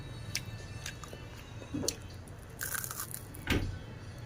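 Crunchy fried chicken shanghai is bitten and chewed close to the mic, with a few crisp crackling bites and soft wet chewing over quiet room noise.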